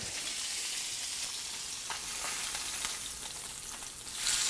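Food sizzling steadily in a pan over medium-low heat, a dense close crackle with a few light knocks as it is turned over, swelling louder at the end.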